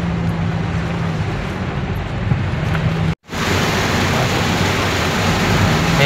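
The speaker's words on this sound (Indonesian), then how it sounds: "Lumayan deras hujannya." Heavy wind-driven rain drumming on a car driving along the main Solo–Yogyakarta road in Klaten, a dense continuous hiss and roar with a brief dropout partway through, no voices.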